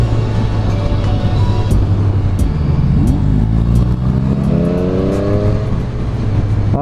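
A 2020 BMW R 1250 GS with a two-cylinder boxer engine revs loudly up close, its deep throbbing note rising and falling in repeated throttle blips.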